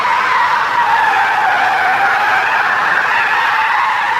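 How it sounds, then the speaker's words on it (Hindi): Car in the Ranch Simulator video game driving and pulling in to park, a loud, continuous tire skid and engine roar that holds steady throughout with no talking. "हमारी गाड़ी यहाँ पर पार्क कर देते हैं और उसके बाद हम खड़ी करते हैं"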